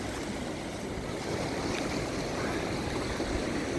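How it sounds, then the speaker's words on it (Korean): Sea waves breaking against coastal rocks off Hyuhyuam, heard as a steady, loud wash of surf and wind rush with no clear individual breaks. "파도가 이렇게 치는데"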